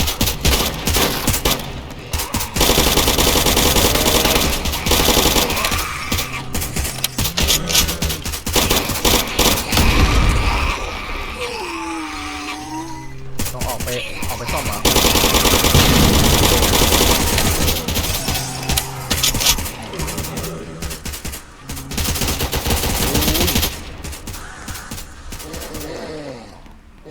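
Gunfire from a Roblox zombie-survival game crackles in dense, sustained bursts through most of the stretch, mixed with game noise while players talk excitedly over it.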